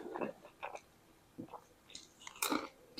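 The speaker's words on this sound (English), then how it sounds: "You hear the crunch?" Crunchy homemade pizza crust being chewed up close, with several soft, irregular bites and crunches spread over a few quiet seconds.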